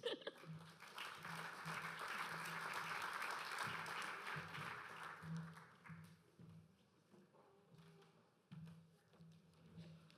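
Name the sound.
audience applause welcoming speaker to stage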